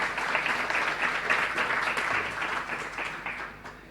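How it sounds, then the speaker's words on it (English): Audience applause at an Australian Arab Cultural Forum celebration day competition, a dense sustained wash of many hands clapping that fades slightly toward the end. "Please give them all a round of applause."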